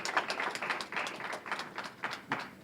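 Scattered audience applause at a disability tax bill press conference, a short burst of uneven, moderately close claps from a small crowd.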